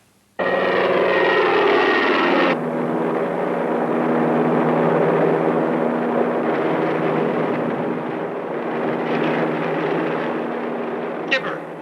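Repaired Zero fighter planes roar in abruptly with a loud engine drone that holds steady and heavy for over ten seconds, shifting slightly in tone as they fly past.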